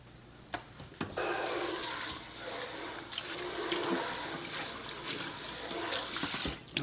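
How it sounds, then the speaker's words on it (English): A kitchen tap runs steadily into a bowl being rinsed while a shrimp stir fry is prepared, a loud continuous gush that starts abruptly after a brief quiet moment and carries on unbroken. "So let me rinse out this here bowl."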